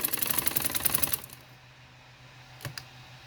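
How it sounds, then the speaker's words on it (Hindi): A sewing machine stitches a neck design on a garment with a fast, even mechanical rattle for just over a second, then stops. A couple of faint clicks follow in near silence. "चलिए इसकी स्टिचिंग करके आपको दिखा देती हूँ।"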